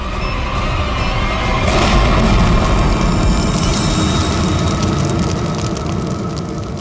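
A thrown bomb going off, a loud, sustained roaring blast with deep rumble that swells near the start and then slowly fades, heard without any voices.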